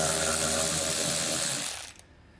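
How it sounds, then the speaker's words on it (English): A power tool with a 7mm socket spins out a screw on a 2021 Chevrolet during a trailer hitch installation, a loud steady whirring drone close by that winds down and stops near the end. "So I'll grab my 7mm socket and pull that out."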